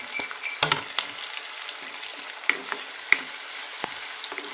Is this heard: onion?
yes